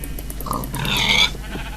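Pigs grunting in Minecraft, a short burst of low snorting grunts over a steady hum, fairly close and moderately loud.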